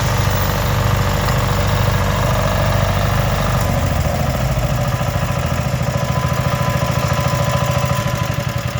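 Two diesel generators run side by side, a loud, steady, close mechanical drone with a rapid rhythmic knocking throughout and no voices.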